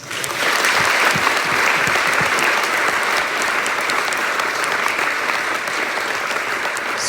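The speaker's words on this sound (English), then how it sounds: "Can we give them a round of applause?" An audience at a high school band pops concert applauds steadily, a dense, sustained wash of clapping from a large crowd lasting several seconds without voices.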